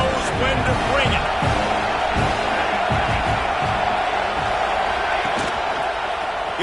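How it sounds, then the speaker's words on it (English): A college football stadium crowd roars steadily through a drive into the red zone, a dense sustained din with scattered whoops, while a play-by-play announcer talks over it. "This crowd knows when to bring it."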